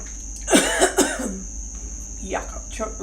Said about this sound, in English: Yuck, I've choked on some water.